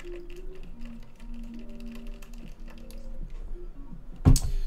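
Keycaps pressed onto a mechanical keyboard built with brass parts and Holy Panda switches, a run of light plastic clicks and taps over a low hum, ending in one sharp louder snap close by.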